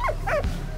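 A short dog vocalization from the video game Valiant Hearts: two brief whining yelps followed by a soft low bark, close and fairly loud over a low steady game background, with no talking.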